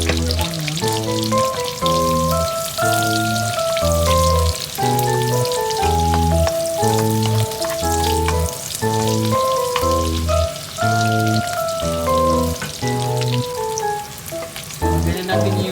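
Onions sizzle steadily in a hot pan for a Filipino karenderia-style macaroni guisado with ground beef, a continuous close frying hiss partly masked by loud background music.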